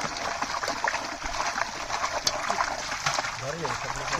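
Water pours and splashes steadily at a fish market stall, a continuous wet splatter and sloshing close by, with people talking over it throughout.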